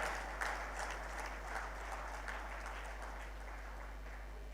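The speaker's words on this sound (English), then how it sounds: "give them a big round of applause" Steady applause from an audience at a conference closing ceremony, a continuous wash of clapping at moderate level with no voices over it.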